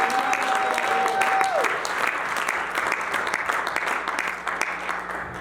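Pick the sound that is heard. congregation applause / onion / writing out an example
congregation applause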